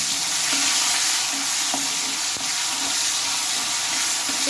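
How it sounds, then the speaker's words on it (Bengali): Tomato and ground turmeric fry in hot oil in a wok with a loud, dense, unbroken hiss. A few faint knocks sound underneath, and no voices are heard. "কড়াইয়ে অল্প একটু হলুদ গুঁড়ো হলুদ দিয়ে নিলাম আর এখানে দিয়ে নেব একটা টমেটো"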